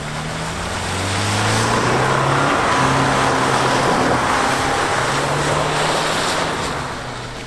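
A Subaru AWD station wagon crossover floored with traction control off, its wheels slipping on snow: a loud, broad engine and tire roar that swells over the first two seconds, holds steady, then eases slightly.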